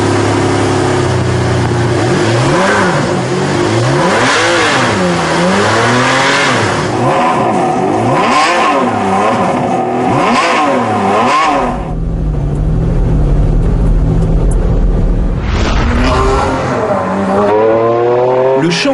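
A Ferrari Enzo's engine fires up and revs hard several times, loud rising and falling roars close by, then settles into a deep, heavy idle before another sharp rev.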